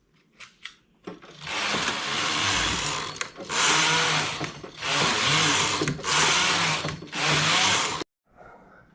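A knitting machine carriage sweeps back and forth across the needle bed while knitting the main colour of a 1930s-style hat, with loud whirring, clattering passes in a regular rhythm, separated by brief pauses.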